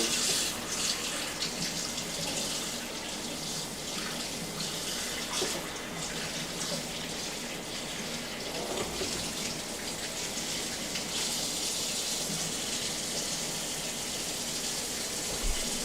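Hot water runs steadily from a kitchen tap to thaw bacon, a constant hissing, splashing stream that fills the whole stretch at moderate volume with no talking.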